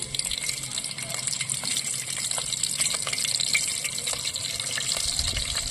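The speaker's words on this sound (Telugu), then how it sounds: "ఆయిల్ అయితే వేడి అయిందండి మనం కడిగి పెట్టుకున్నాం కదా ఎండు చేపలు ఇవి కొన్ని కొన్ని ఫ్రై చేద్దాము" Dried fish fry in hot oil over a wood-fired stove, giving a dense, continuous crackling sizzle that stays loud and close for the whole stretch.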